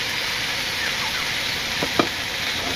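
Fish fries in a pan with cumin paste and coriander leaves, making a steady, even sizzle broken by a couple of faint clicks near the end.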